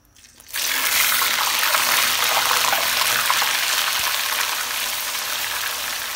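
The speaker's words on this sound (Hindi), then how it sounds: "कढ़ाई ली है, उसमें डाला हमने कुकिंग ऑयल जो वो गर्म हो चुका है। इसमें शामिल करेंगे ग्राइंडर किया हुआ प्याज" Ground onion paste hits hot cooking oil in a wok and bursts into a loud, close, steady hissing sizzle that starts abruptly and holds strong throughout, with no talking.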